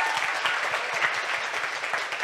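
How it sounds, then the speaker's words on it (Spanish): Audience clapping for a marathon runner, brisk dense applause sustained throughout, fairly loud and close without speech over it. "Se merece un aplauso más fuerte"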